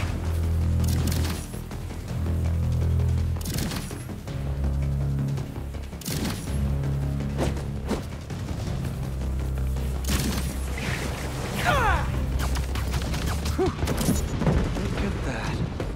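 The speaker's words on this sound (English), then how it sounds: "Wait, those fireworks are lit?" Fireworks explode in Marvel's Spider-Man 2, a series of deep booms and crackling bursts repeating every couple of seconds amid game sound effects and music.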